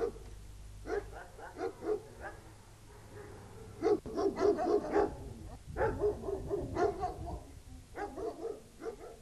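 A pack of hunting dogs barks and yelps in repeated ragged bursts, several animals at once at moderate distance, with low rumbling between the volleys.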